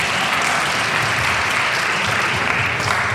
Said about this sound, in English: Please applaud for this.